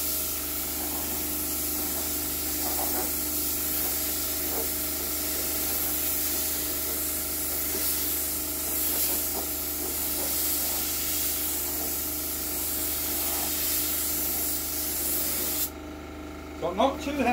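A spray gun lays down a heavier coat of 2K paint on a DIY car respray, giving a steady, loud, close hiss that runs almost the whole way before cutting off near the end, followed by brief handling noise.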